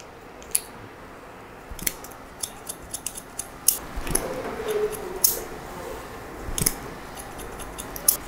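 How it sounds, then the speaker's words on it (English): Scissors point-cut into hair in a series of short, crisp snips at an irregular pace, close up and distinct against a quiet room. "I'm just going to point cut into this to really break it up."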